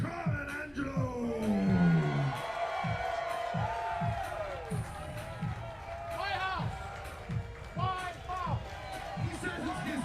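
A crowd cheers and claps for a man being introduced, a loud roar rising at first and then settling into rhythmic clapping, with shouts and a singing voice mixed over the din.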